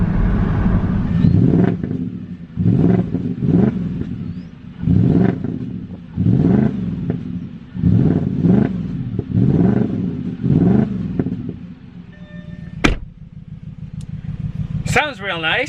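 An Audi S4 Quattro engine with a misfire idles in loud, uneven rhythmic pulses close by, followed by a couple of sharp clicks and a brief rising whine at the end.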